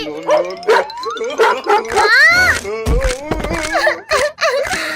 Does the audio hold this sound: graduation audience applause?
no